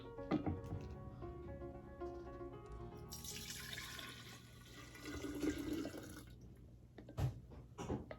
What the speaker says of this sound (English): Pour this in my pitcher.